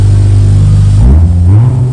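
A Nissan R33 GTR with a 1JZ engine idling loudly through its exhaust, then blipped into a sharp rev that rises and settles, close and deep, with no talk.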